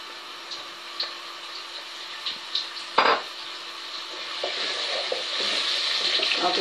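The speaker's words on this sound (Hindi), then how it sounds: "ऑयल मेरा गर्म हो गया, मैं इसमें अनियन डाल दूंगी।" Sliced onions hitting hot oil in a pan for an aloo anda dish, with light clinks and a sharp clatter before a rising, steady sizzle builds and continues close by.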